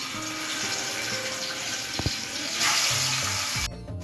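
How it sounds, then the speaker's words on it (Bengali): Pieces of bhola fish fry in hot oil, making a continuous close hiss with a pair of faint clicks partway through and a brief louder surge near the end. "তেল গরম করে নিয়েছি, এবার একে একে মাছগুলোকে ভেজে নেব"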